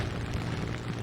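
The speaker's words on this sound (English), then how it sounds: "I'm getting hit by flak" Flak bursts hit an aircraft in the War Thunder combat game, heavy muffled booms rumbling close and loud in a quick cluster over a constant low engine drone, with no talking.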